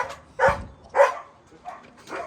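A dog barks noisily at close range, giving two loud barks followed by a few softer yips and whines, with no talk over it.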